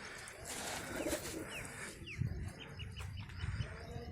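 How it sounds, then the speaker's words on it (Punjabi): Pigeons at a loft during a first release flight coo softly and faintly, with a few brief chirps over a low, steady outdoor background. "ਕਬੂਤਰ ਇੱਕ ਆ ਜਾਂਦਾ ਤੇ ਇੱਕ ਕਬੂਤਰੀ ਆ ਜਾਂਦੀ ਹੈ"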